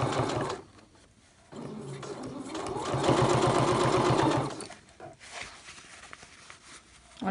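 A sewing machine stitches a softshell jacket seam with a one-centimetre seam allowance, running in a fast, steady rattling burst after a brief start, then stopping.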